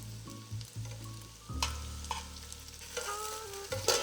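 Meatballs for Italian wedding soup fry in oil in a moderately hot pan, browning gently. A continuous sizzle runs under a few clatters and soft knocks, with a bright scrape near the end.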